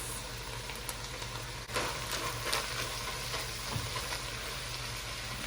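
Onions and garlic fry in a pan for homemade chili, a close steady sizzle with a faint clatter partway through, no voices.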